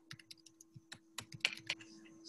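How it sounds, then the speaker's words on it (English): Quiet, close typing on a computer keyboard, a few quick irregular key clicks with short pauses between them, heard alone over a faint steady electrical hum. "I'll type in here actually."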